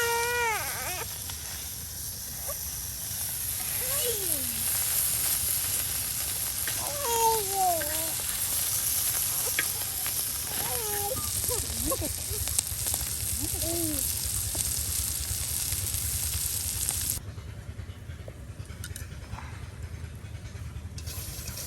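Oil being poured and frying in a pan for Mymensingh-style mukhi dal with fish, a steady sizzling hiss beneath a crying baby's wails, continuous and moderately loud before dropping quieter near the end.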